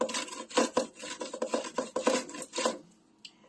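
Cucumbers are rubbed down a hand grater that isn't cutting well, giving a steady run of close, rasping scrapes in a rhythmic back-and-forth, about a dozen strokes before the sound stops.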